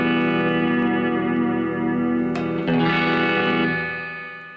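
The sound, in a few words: Peavey Bandit 65 amp spring reverb cranked up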